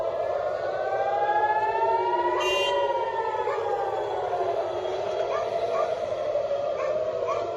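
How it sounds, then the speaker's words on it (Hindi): Air raid siren wailing across Tel Aviv during a rocket attack, a sustained rising and falling tone that carries on steadily and loudly throughout without pause. "पूरे तेल अवीव में रात भर गूंजती रही सायरन की आवाज।"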